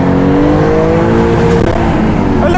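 A rear-wheel-drive Jaguar sports car engine revs loud and close, a steady throaty roar with rich layered harmonics holding for a couple of seconds before the pitch shifts near the end.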